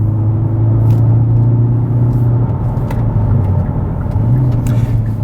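A 2019 Hyundai Veloster N with a 6-speed manual cruises in fourth gear in N mode, its engine a steady, loud low drone with road rumble throughout and a brief rise in pitch near the end.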